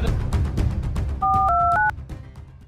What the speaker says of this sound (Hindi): इस भाई को फोन लगा देता हूँ यार